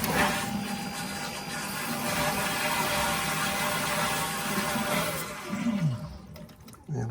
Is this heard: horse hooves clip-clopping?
no